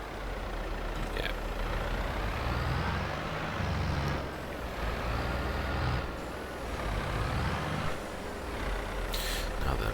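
A 90 horsepower tractor engine in Farming Simulator 22, a steady loud diesel drone running throughout with slight rises and falls in load and a few brief higher-pitched mechanical tones on top.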